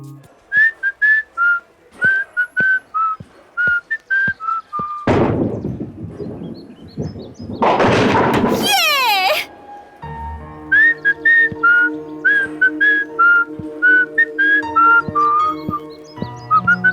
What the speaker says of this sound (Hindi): सीटी तुम बहुत अच्छा बजाती हो